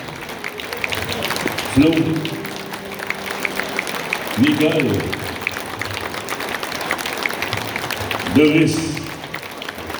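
Steady applause from a country music festival audience in Louiseville fills the background as volunteers are honoured, while a man calls out names at intervals over the crowd's clapping.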